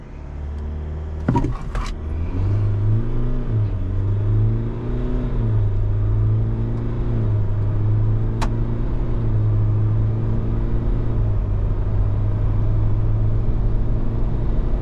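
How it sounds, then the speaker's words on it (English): A 2026 Ford Everest SUV with a 2.0-litre single-turbo engine revs steadily at a held pitch on the brake, then pulls away in a long, loud 0-100 km/h acceleration with a continuous rumbling drone. "Bring up some revs on the brake."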